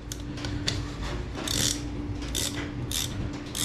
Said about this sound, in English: So you're going to go ahead and fasten the nut.